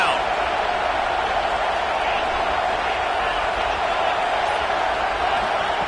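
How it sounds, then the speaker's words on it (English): A football stadium crowd roars steadily behind the defense on third down, a dense sustained wall of noise throughout. "Decibels rising as the crowd gets behind this defense on 3rd down."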